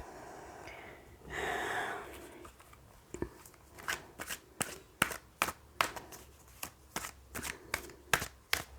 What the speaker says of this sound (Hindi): चलिए मैं थोड़ी सी कार्ड्स और लेती हूँ।